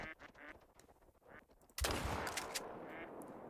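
In the hunting game theHunter: Call of the Wild, ducks quack softly during a mallard hunt until one sharp, loud gunshot cracks out and its echo rolls on, fading slowly behind it.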